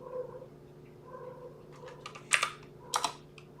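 A cat purrs softly in a low steady rumble while someone types on a computer keyboard nearby, with clicking bursts of keystrokes rising over the quiet purr.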